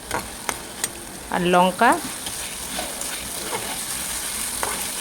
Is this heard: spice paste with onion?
yes